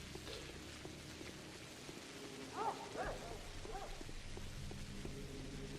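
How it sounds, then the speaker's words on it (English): Heavy rain in the video game Pathologic hisses as a steady, faint wash, with a couple of brief barks or calls rising over it midway. "It's also fucking pissing it down with rain."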